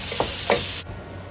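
Square-inch chicken pieces browning in a hot pan with a steady sizzle, broken by two quick stirring scrapes before the sound cuts off abruptly.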